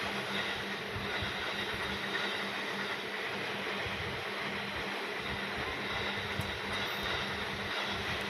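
A train passes in the railway simulation game Trainz on an Indonesian route near Bekasi, a steady, dense rumble and roar that holds at an even level throughout with no voices.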